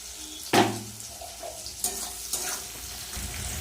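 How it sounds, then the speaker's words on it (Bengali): Chopped onion dropping into hot oil in a pan with a sharp sizzle, then softer frying and occasional stirring clatter for a few seconds. "পেঁয়াজটা একটু লাল লাল করে ভেজে নেব"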